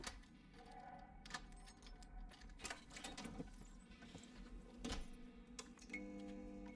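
Keys jangle quietly in several short, scattered clinks and rattles against a faint background hum.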